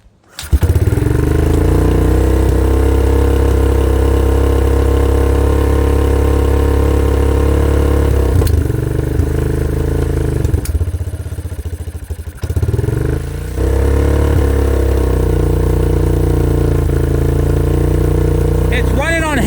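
A 2003 Kawasaki Bayou 250 ATV engine running on half choke on a chilly day, a loud, close, steady low idle that dips and stumbles briefly a few times before settling again.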